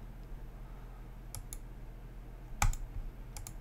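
Someone types on a computer keyboard at a desk, producing a few sparse, faint key clicks. Some are single taps and some come in quick pairs, set against a quiet room hum.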